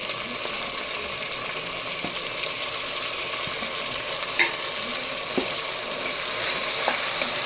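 Prawn biryani masala with softened tomatoes and boiled prawns sizzles steadily in a pan, with soft scraping stir strokes recurring over a constant close frying hiss and no talk.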